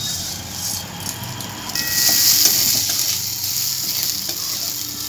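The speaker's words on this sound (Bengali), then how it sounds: "ওই ঘিয়ের মধ্যে এই চালগুলোকে একটু ভেজে নিচ্ছি" Gobindobhog rice grains frying in ghee, a steady close sizzle with faint scraping of a stirring utensil throughout.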